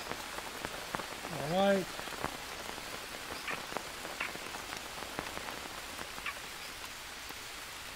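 Steady rain patters over jungle ground in the Green Hell survival game, a soft continuous hiss with scattered drips, a brief frog-like croak and a few quiet spoken words.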